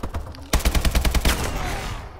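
Rapid burst of AK-12 automatic rifle fire in Call of Duty: Advanced Warfare, about ten sharp, evenly spaced close shots, loud and alone, trailing into a short echo.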